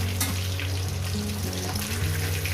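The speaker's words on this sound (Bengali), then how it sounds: "বাদ দুটো মাছ একেবারে ভেজে নিয়ে নিচ্ছি" Katla fish frying in oil crackles and sizzles continuously up close, a dense, even spatter with small bubbling bursts.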